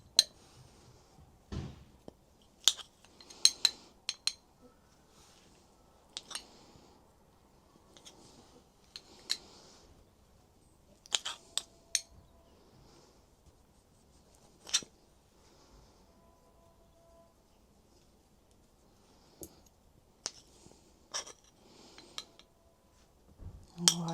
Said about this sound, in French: Je le recoupe.